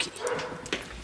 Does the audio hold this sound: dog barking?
yes